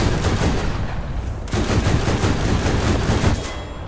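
Rapid bursts of tank gunfire from War Thunder, loud and dense, with repeated machine-gun style rattling and booming shots filling the whole stretch and a brief break around the middle.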